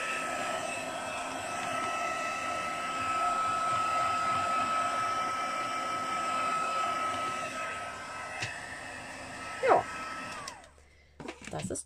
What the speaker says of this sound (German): deswegen nehme ich den Heißluftföhn